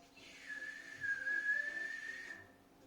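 A person whistles without using fingers, one sustained, slightly wavering tone lasting about two seconds, faint and alone.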